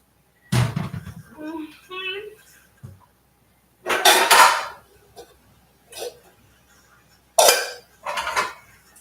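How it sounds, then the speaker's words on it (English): Food goes into a small pot while corn soup with catfish cooks: a few loud metallic clinks and clatters of utensil against pot, in separate bursts with quiet gaps between them. "Gonna put it in this little pot here and then continue cooking the rest of the food."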